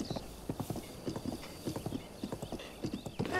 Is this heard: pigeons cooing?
no